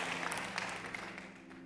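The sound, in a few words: audience applause in a church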